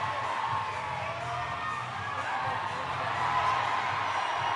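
A spectator crowd cheers and shouts at the women's finals of a 2014 national climbing championship, a steady roar of voices and whoops with no breaks.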